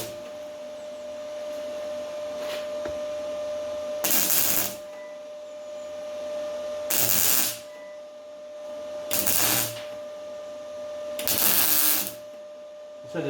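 Short bursts of welding on a Bedford CA camper, four crackling hissing tacks of a second or so each spaced a few seconds apart, over a faint steady electrical hum in a quiet workshop.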